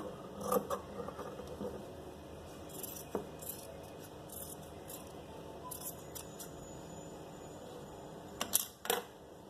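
Scissors cutting fabric for a kameez, heard as a quiet room with a few isolated sharp snips and clicks of the blades, a cluster of them near the end.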